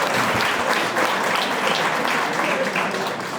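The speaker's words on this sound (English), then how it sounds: "Big round of applause for them and their family." Audience applause at a Ramadan iftar gathering hosted by the Turkish American Center, a dense steady wash of many hands clapping, loud and sustained throughout with no clear voices on top.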